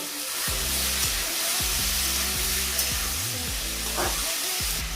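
Small fish sizzle steadily in hot oil after turmeric and salt go in, a continuous close frying crackle that carries evenly through the whole stretch with no voices over it.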